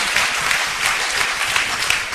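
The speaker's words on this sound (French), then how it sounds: "Oui, applaudissez-la" Studio audience on a French-language television quiz show applauding a contestant, a continuous wash of clapping hands at even strength from start to finish.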